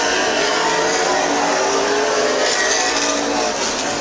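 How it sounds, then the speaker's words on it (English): Late model race cars doing hot laps at Midvale Speedway fill the air with a loud, continuous engine roar. It holds steady throughout, with no pauses or voices. "Late models are on the track doing some hot laps"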